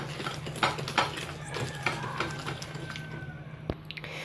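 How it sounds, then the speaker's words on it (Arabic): A whisk or spoon beats sugar and vanilla in a bowl, giving light, close clinks and scrapes in an irregular rhythm over a faint steady hum. "هنا غادي نطرب هاد المقادير مع بعضياتهم"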